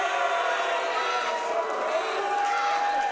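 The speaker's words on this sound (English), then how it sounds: "Those are woos, my friend." A wrestling crowd lets out a long, continuous woo that holds at a steady level for the whole stretch, with a faint hum of general arena noise underneath.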